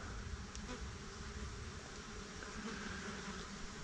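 Dense swarm of flies droning continuously outdoors on a hot day before a storm, a steady close buzzing hum filling the whole stretch with no talk.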